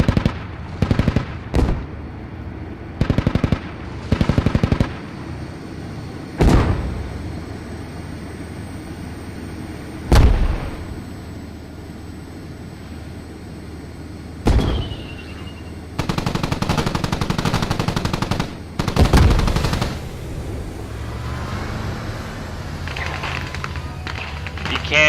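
Abrams tank cannon and machine gun fire against a T-72 in the Squad video game, with loud isolated blasts and bursts of automatic fire spread out over the stretch, under occasional talk.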